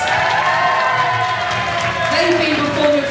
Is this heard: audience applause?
yes